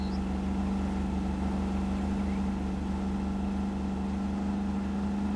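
Tractor engine in the RoadCraft video game drives along at a steady, loud drone with a strong low hum and constant rumble, no talk over it.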